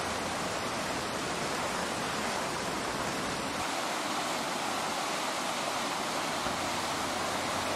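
Water pouring steadily over the Mägara stream cascade in Ida-Virumaa, Estonia, a spring-fed brook with modest flow, a constant broadband rush close by and unbroken from start to end, with no voices.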